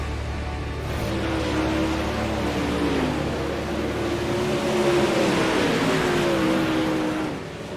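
Super late model race cars circle the Knoxville track during a practice session in a sim racing game, a steady engine drone with rising and falling pitch that swells and fades as the cars pass.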